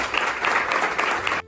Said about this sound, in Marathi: तर आपण आपल्या पाल्यांसाठी ना एकदा सगळ्यांनी टाळ्या वाजवूया